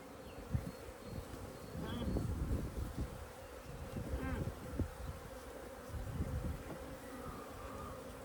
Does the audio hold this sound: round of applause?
no